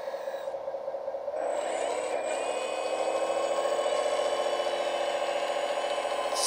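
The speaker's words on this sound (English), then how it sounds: "let's fire up the scraper" A large RC scraper model's electric drive starts up and rolls out, a steady motor whine rising in pitch and intensity as it gets moving, close and alone without voices.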